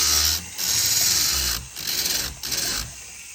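A small rotary tool grinds down a piece of gold in a jewelry repair: a steady, close motor whine with a gritty edge that dips and returns a few times as the tool eases off the metal.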